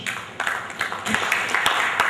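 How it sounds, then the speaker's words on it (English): A hall audience breaks into applause after a speech at a stage event, clapping swelling from a scattered start into steady, moderately loud applause with sharp claps standing out, under a background murmur. "Another round of applause for Justice for All."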